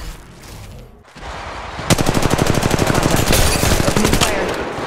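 Rapid automatic gunfire in a mobile shooter game played on an iPhone, a softer stretch giving way to a loud, sustained burst of evenly spaced shots that runs to the end.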